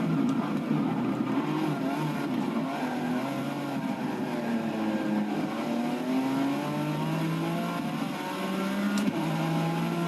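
A race car engine drones steadily in Forza 6 on the chicane version of a track, its pitch slowly falling and rising as the car accelerates, loud and continuous with no talk.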